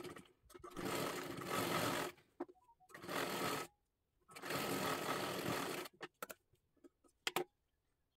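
A sewing machine runs a seam on a blouse with four tucks in three long bursts of whirring stitching, separated by short pauses filled with clicks and handling of the fabric.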